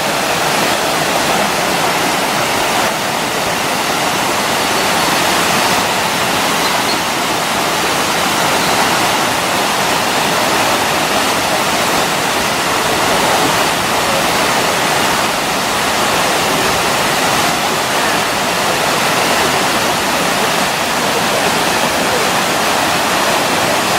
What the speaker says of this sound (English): And this is the beautiful waterfalls.